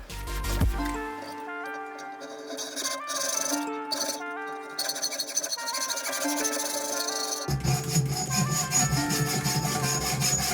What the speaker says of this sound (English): Now let's take another exciting hour to cut this aluminum piece in half, vertically.